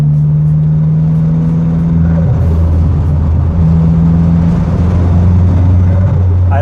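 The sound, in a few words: turbo four-cylinder car engine revving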